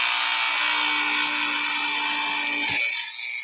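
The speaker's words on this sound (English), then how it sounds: "I think I'm going to use an even bigger drill bit" A power drill bores steadily into a metal charm, a sustained high whine that runs for several seconds, then a brief grinding bite before it winds down.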